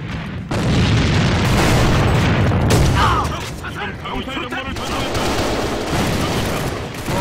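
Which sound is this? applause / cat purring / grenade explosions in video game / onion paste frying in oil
grenade explosions in video game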